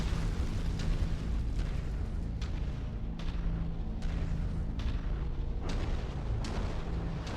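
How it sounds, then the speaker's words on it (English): Continuous rumbling booms of artillery explosions from the MechWarrior 5 video game, a dense, loud, sustained barrage with repeated heavy impacts rolling over one another, with no talk. "Oh boy, I hear artillery."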